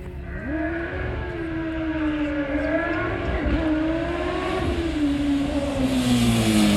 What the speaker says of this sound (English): Now this is a 1200cc or 1100cc Honda engine. Have a listen to this, Jonesy.